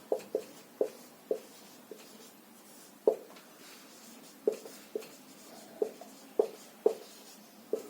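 Chalk or marker taps and strokes on a board in an economics lesson come in a dozen short, sharp bursts with uneven gaps, fairly close and without talk.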